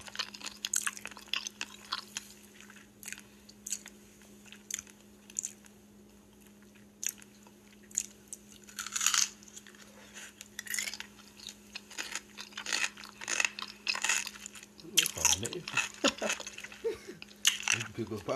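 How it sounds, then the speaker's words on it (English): A woman crunches and chews on a big pickle for ASMR: repeated close, crisp bites and wet chewing sounds come in bursts, with a steady low hum underneath and some talk over them. "These pickles probably be crunchy to her,"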